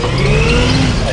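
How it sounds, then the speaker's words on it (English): A Scout four-wheel-drive in 4 low accelerating, with a steady loud engine drone and a low drivetrain whine rising slightly in pitch throughout, close and continuous with no talk. "You can hear a difference in the drivetrain when it's in 4 low"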